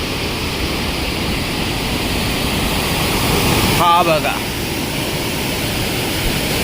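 A roaring waterfall pours right beside a wooden temple, a loud, steady broadband rush filling the whole stretch while someone briefly speaks over it.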